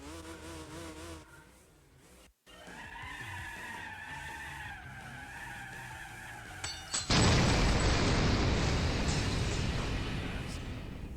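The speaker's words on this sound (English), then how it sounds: "Honestly, I never thought that wheel spin would end." Car wheel spin and tyre skid from a standing start in the video game Gran Turismo 4: a rising engine whine gives way, at about seven seconds, to a loud, sustained broadband screech of spinning tyres.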